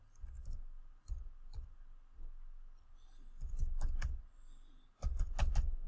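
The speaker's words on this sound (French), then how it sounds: "je vais rentrer ici mes informations de carte" Bank card details typed on a computer keyboard, quiet scattered key clicks in short bursts and pauses, close and soft, with no talking.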